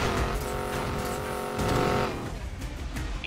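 Racing car engine held at full throttle in Need for Speed Payback, a loud steady high-revving drone that climbs, then drops off as the note fades into rougher engine noise.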